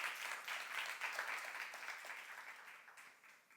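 Church congregation clapping during a youth sermon, a soft, distant wash of applause that holds steady and fades gently.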